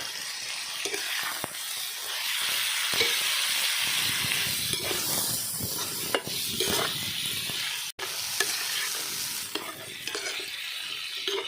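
Mutton chops with curd sautéed and stirred in a pan for a village-style gravy: steady close sizzling with repeated scraping strokes of a spoon against the pan, continuous throughout.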